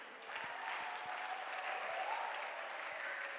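Women in a church congregation clap together in steady, lively applause that starts abruptly and holds at an even level.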